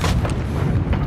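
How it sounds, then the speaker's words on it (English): A bomb explodes in the video game Hunt: Showdown, a distant, heavy rumbling boom that fills the whole short moment with low, rolling noise. "That was a bomb."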